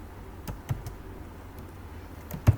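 Typing HTML code on a computer keyboard: a few sparse, soft key taps spaced irregularly over a quiet, faintly hissing room background.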